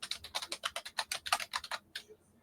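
Quick, crisp keystrokes on a computer keyboard come in an uneven burst of about a dozen close, clear taps, then stop.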